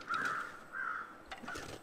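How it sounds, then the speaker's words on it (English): Crows caw in the snowy wilderness of the video game The Long Dark, three or four drawn-out harsh calls at a moderate distance, faint and alone against a quiet background. "There's crows somewhere."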